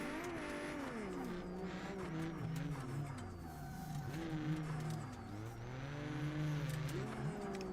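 Car in a BeamNG or Assetto Corsa driving sim drifting with the handbrake, engine revving up and down with rising and falling pitch while tires squeal continuously, fairly quiet and steady.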